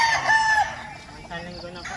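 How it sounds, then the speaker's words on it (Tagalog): Gamecock roosters crow loudly close by in a cockfighting yard, one strong crow at the start followed by softer clucks and distant fowl calls. "Parang dumami na yung manok."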